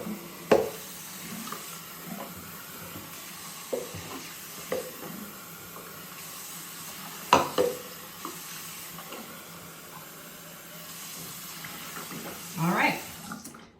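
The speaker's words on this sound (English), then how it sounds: "So next I'm gonna rinse this off." Water running while a porcelain bathroom sink is rinsed, a faint steady splashing flow with a few clunks and knocks, and a voice talking briefly.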